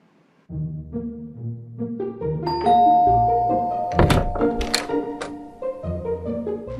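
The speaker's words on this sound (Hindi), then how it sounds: "और अब चलिए बजाते हैं किसी घर की घंटी।" A house doorbell is pressed and rings with a short sustained chime, surrounded by soft thumps and knocks from someone standing close at the door; no one speaks.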